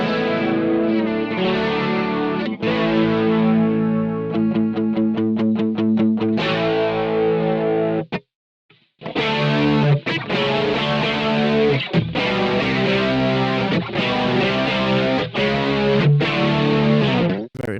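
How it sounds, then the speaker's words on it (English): An electric guitar run through a Boss GT-100 with stereo chorus, distorted and shimmering; it plays a sustained melodic phrase with a brief cut to silence midway before the tone resumes, loud and up front. "I go to the quick setting and I select stereo chorus, which sounds really cool"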